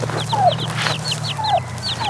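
Chickens mill about outdoors in weedy ground, giving short repeated clucks and chirps in a steady scatter over a low hum, with no talking.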